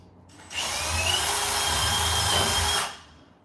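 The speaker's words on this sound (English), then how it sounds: "drill this like this" A power drill runs for about two and a half seconds, a steady high whine with a rough grinding edge that starts abruptly and cuts off cleanly, close and loud with no talk.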